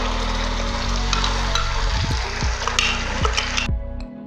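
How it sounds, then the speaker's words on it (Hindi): Tomato puree for pizza sauce hitting a hot pan, a loud steady sizzle with several rhythmic stirring knocks and scrapes, cutting off abruptly at the end. "अब हम इसमें सारी प्यूरी हम इसमें शामिल कर देंगे।"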